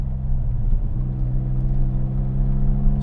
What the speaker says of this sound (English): Let's do an acceleration run.